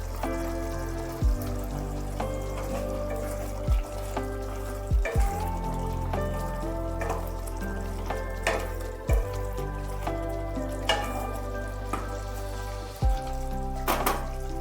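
Tomato chutney bubbling in a pan on the stove, a steady close simmer with sharp pops and spits, alone with no talk.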